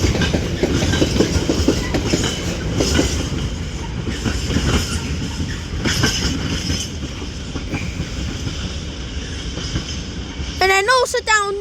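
A long freight train rumbles steadily through Manchester Piccadilly station with rhythmic wheel clatter, and a brief high squeal of wheels near the end.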